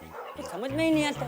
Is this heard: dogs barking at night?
yes